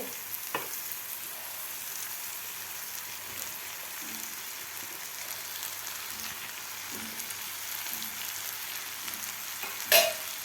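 Sweet corn poha stir-fries in masala in a pan, a soft steady sizzle with occasional faint scraping stirs and one brief louder clink near the end.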